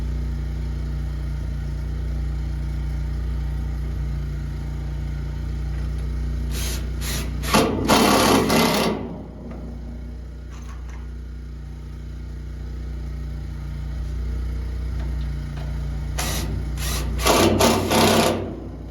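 Cordless drill driving 40mm number 4 screws into floor battens inside a narrowboat, two short close bursts of whirring drive separated by a pause, over a steady low background hum.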